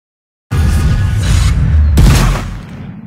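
Loud, close bursts of simulated gunfire hit destructible reinforced concrete chunks in Unreal Engine 4, a rumbling barrage after a moment of silence with a second sharp blast midway before it fades.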